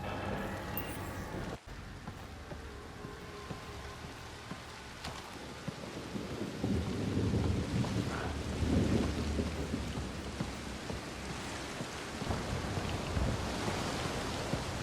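Heavy rain pours down in the Mass Effect video game, a steady dense hiss with low thunder rumbling beneath it, swelling louder from about halfway through and continuing without voices.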